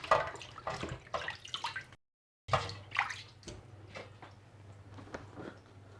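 Pieces of striped catfish washed by hand in running water in a basin, a steady splashing trickle with sloshing bursts, briefly cut off, then resuming close by without talk.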